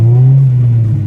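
Honda Civic EP3 Type R engine fitted with a DC Sports 4-2-1 exhaust manifold, a loud, steady low droning note holding close by for about a second with a slight rise and dip in pitch, no voices.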